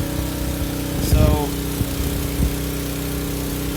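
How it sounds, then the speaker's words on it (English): A Cummins diesel engine drives a 15 kW backup generator on a rural maple farm, humming steadily nearby with a few brief clanks while someone speaks a word over it. "Cummins diesel engine"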